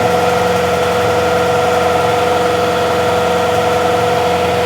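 A New Holland TL-90 turbo diesel tractor engine runs steadily under load, a loud, close, droning hum with a constant low rumble and no breaks or voices.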